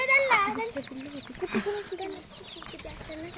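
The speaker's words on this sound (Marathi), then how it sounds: "आणि गायचे कोंबडे बघा" Chickens cluck in short, fluttering bursts close by while a person talks over them.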